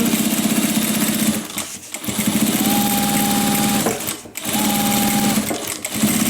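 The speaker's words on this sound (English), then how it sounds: "I'm just going to stitch 1/4 inch from the edge, back stitch all the way down" A sewing machine stitches fabric a quarter inch from the edge with a 4 stitch length, running steadily and loudly in long bursts with brief pauses between runs and a faint tonal whine.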